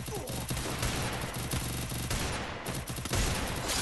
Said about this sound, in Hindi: कितना मैं शॉटगन कितना मार रहा हूँ